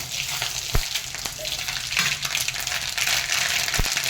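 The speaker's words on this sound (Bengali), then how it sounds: "পাঁচফোড়ন নিয়েছি কসরি মেথি নিয়েছি কালো জিরে একটুখানি সর্ষে আর শুকনো লঙ্কা এটা আমি ফোড়ন দিয়ে দেবো" Panch phoron, kasuri methi, nigella, mustard seeds and dried chilli are dropped into hot oil, crackling and sizzling in a dense continuous hiss with a few sharp pops and taps, close and loud.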